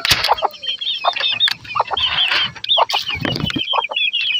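Native country hens and half-grown chicks cluck and chirp busily close by, a dense run of short overlapping calls with no people speaking.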